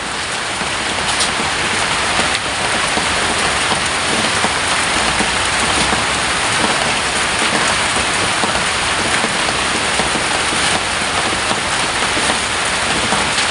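Steady heavy rain pours down without a break, a dense close hiss of drops hitting surfaces that stays loud and even throughout, with no voices.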